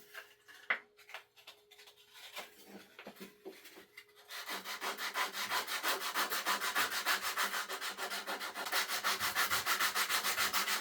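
Hand sanding of an old wooden rocking horse with sandpaper: a few scattered scrapes and taps, then a steady fast back-and-forth rasping that continues loud and close to the end.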